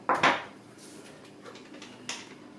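A metal spoon knocks against a jar while pressing herbs down into oil for a cold infusion, two sharp clinks at the start followed by softer scrapes and one more tap.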